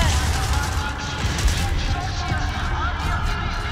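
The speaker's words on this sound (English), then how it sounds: "What are these guys shooting at?" Dense, continuous gunfire from enemies in the video game Gears of War 4, with overlapping shots and booms forming a loud, steady battle din throughout.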